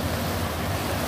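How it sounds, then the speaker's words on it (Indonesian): Ocean waves at Holtekamp Beach in Jayapura, a continuous loud wash of surf with wind buffeting the microphone, close and alone without talk. "Ombak. Asli bos."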